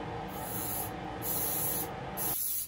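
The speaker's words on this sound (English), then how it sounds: "I love the sound the activator makes." CA glue activator sprayed onto a wooden jewelry box piece around a knot: three short hissing bursts from an aerosol can, close and steady, the last cut off abruptly, with no talking.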